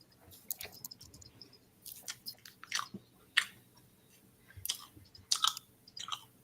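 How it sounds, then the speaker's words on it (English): A bread roll being chewed close to the mic: irregular soft crunchy bites and wet clicking mouth sounds in quick bursts, fairly quiet, with no talking over them. "who I sound like when I'm eating this roll"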